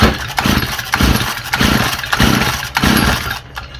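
A Stihl FS45 string trimmer's small two-stroke engine catches and runs in loud, surging bursts that rise and fall roughly every half second, close up, then cuts off near the end.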